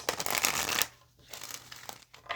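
Tarot cards shuffled by hand, a crisp riffling burst for nearly a second followed by softer, sparse card rustles and taps, close and fairly quiet.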